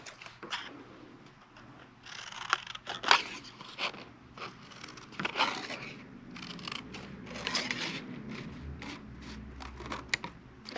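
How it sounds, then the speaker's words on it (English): Scissors snip through paper while cutting out two drawn triangle beaks for a peacock fan craft, giving a series of close, crisp cuts and rustles at an uneven pace with no talking. "So I'm just going to draw 2 triangles. And you can make them as big or small as you'd like. These are just mine. And then I'll cut them out."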